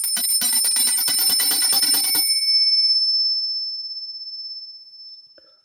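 A small handbell tuned to E8 rings out in a rapid shaken run of very high, bright strikes for about two seconds, then one piercing high tone lingers and slowly fades to silence, with no voices.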